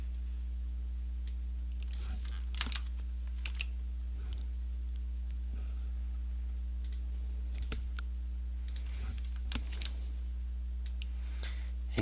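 Sparse mouse clicks and a few keyboard taps sound close and quiet at a computer while someone works in a CSS validation tool, set against a steady low electrical hum.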